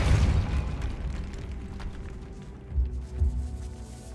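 A Depulso force spell cast in Hogwarts Legacy, heard as low booming bursts: a heavy thump at the start, then two more dull impacts near the end, with no talk.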